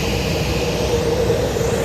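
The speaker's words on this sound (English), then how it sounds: "We've got our Embraer 190 pushing back" An Embraer 190 pushes back at Madeira airport, heard as a steady, fairly loud jet engine hum and airport drone with no clear changes.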